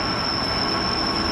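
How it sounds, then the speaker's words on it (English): A class 66 freight locomotive with its wagons rolls through Manchester Piccadilly station, a loud, steady close rumble with a sustained high-pitched wheel squeal running throughout. "Freight train coming through,"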